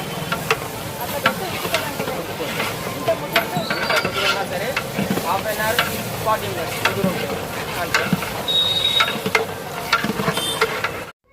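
Mutton curry sizzles steadily in a pot, with scraping and clicking stirring sounds on top, close and continuous.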